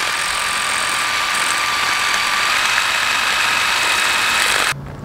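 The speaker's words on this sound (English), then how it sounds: "I will rotate it and kind of lathe it down a little bit." A makeshift lathe spins a Honda Ruckus mirror part as it is filed down, giving a loud, steady whirring drone with a thin whine that holds evenly, then drops off sharply just before the end.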